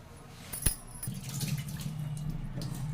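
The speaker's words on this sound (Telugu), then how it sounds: "ఇంకొంచెం వాటర్ పోసి ఇంకోసారి పెట్టుకుంటాను." Water pours steadily into a pot of prawn curry nearby, a soft continuous splashing after a brief metallic clink, with no one speaking.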